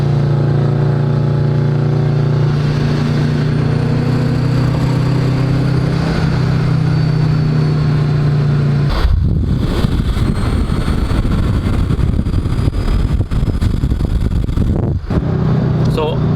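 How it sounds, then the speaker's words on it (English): A supercharged Subaru BRZ with a centrifugal supercharger carries a rising high-pitched whine over engine drone, then the diverter valve releases a loud broadband whoosh as the throttle lifts, followed by rough engine and road noise. "you can hear the supercharger, the centrifugal supercharger whine and the whoosh on the diverter valve"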